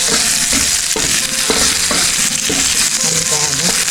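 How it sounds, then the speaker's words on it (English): Large scallions stir-fry in a hot pan with a steady loud sizzle, broken by repeated scraping strokes of a utensil stirring them. "So we are putting in the scallion. These are super big. We're going to stir fry them,"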